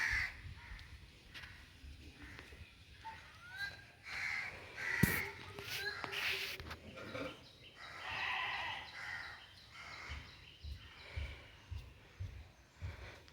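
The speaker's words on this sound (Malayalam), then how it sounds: "നമ്മുടെ രണ്ട് കാക്ക" Crows caw repeatedly at a moderate distance, harsh calls spread across the clip over faint outdoor background noise.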